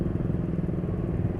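A Honda scooter-type motorcycle engine, such as a Vario, PCX, Beat or Scoopy, run on low-octane fuel in a high-compression engine, with a steady low rapid putter and a slight clattery knock, close and alone.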